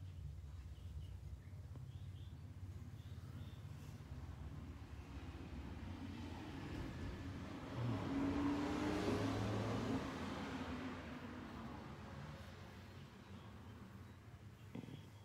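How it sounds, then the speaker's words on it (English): Traffic passes outside a bedroom window, a faint distant wash of road noise that swells as one vehicle drives by midway and then fades again, with no talking. "I can lay here and see the traffic go by."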